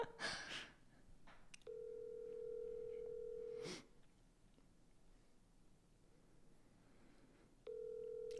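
A ringback tone on speakerphone sounds during a phone call: a steady, moderately loud purring tone holds for about two seconds, then a long gap of quiet room noise, then the next ring begins. A short burst of handling noise comes before it.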